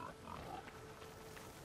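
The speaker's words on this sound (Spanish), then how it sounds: "Eso es un cerdo montés." A wild boar grunts in the video game Horizon Forbidden West, rough short grunts repeating over a dense, steady bed of game ambience at moderate volume.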